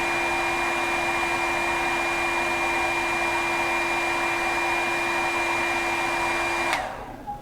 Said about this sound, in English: That's the last we see of the hairdryer, unfortunately.